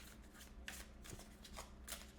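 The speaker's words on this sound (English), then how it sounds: "Now, I'm gonna pull one card for you, Cancer." Tarot cards are shuffled in quick, soft riffling bursts, several papery flutters in a row, close but quiet.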